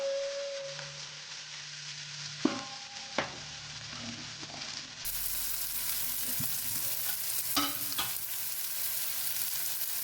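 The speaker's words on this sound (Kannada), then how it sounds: "ಈರುಳ್ಳಿ ಎಲ್ಲ ಚೆನ್ನಾಗಿ ಸಾಫ್ಟ್ ಆಗೋಗೆ ಬೇಯಬೇಕು" Onions fry gently in a pan with a soft, fairly quiet sizzle, broken by a few sharp clinks of a utensil and a faint tonal beep early on.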